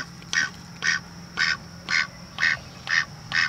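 A pet duck quacks seven times in a steady rhythm, each quack short, raspy and evenly spaced, close and clear over a low background hum.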